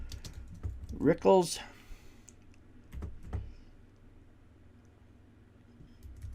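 Keys tapped on a computer keyboard while entering a short title in reference software, a quick cluster of soft clicks heard close under a spoken voice, then a few isolated taps.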